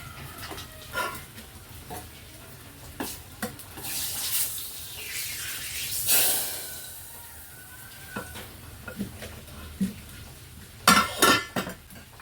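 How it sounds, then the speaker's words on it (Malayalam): Mustard seeds hit hot oil for a cabbage stir-fry, setting off a brief burst of sizzling hiss among scattered clinks and taps of kitchen utensils. "അപ്പൊ എണ്ണ ചൂടായിട്ടുണ്ട് കേട്ടോ. കടുക് ഇട്ട് കൊടുക്കാൻ വേണ്ടി പോവാണ്."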